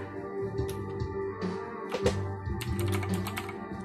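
Computer keyboard keys tapped out in a short burst of clicks while a command is entered into a game console, with steady background tones underneath.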